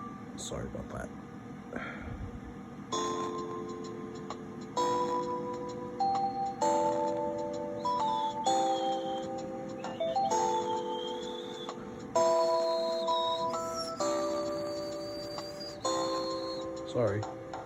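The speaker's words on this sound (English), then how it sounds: "This phone's got a lot of good melodies to it, and the ringtones are not as annoying as other phones." A Panasonic KX-TGFA30C cordless landline phone plays a series of ringtone melodies, bright electronic beeping tunes in short separate bursts with brief pauses between them, heard fairly close with no talking over them.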